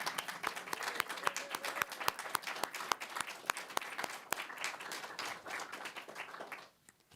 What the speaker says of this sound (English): I think we need another round of applause for that.